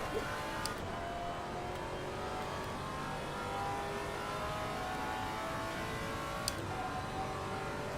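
A Maserati GT3 race car engine in the Assetto Corsa Competizione racing game drones steadily, with a sustained mid-range tone and layered harmonics at a constant, fairly close level throughout, with no talk.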